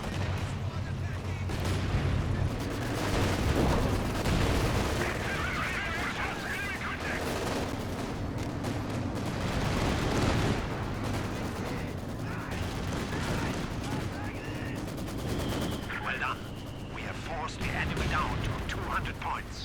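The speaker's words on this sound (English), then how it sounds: "here's the strafing support" In a WWII-themed Axis versus Allies strategy video game, strafing support gunfire rattles and booms in repeated bursts while commentators talk continuously over the battle noise.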